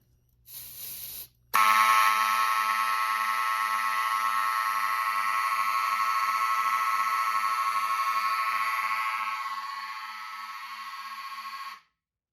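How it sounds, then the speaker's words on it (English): A Gamewell Zans 400 fire alarm panel sounds loud and steady as a smoke detector triggers a second zone, a harsh continuous tone holding about ten seconds before cutting off, following a short beep. "let's activate a subsequent alarm by activating the DI4 smoke detector"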